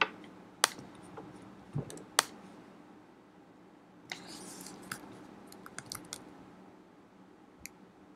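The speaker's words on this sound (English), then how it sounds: "The good old arrow keys." Computer keyboard arrow keys pressed during a digital painting art session, giving a few sparse, separate clicks spread over quiet room tone, with no talking.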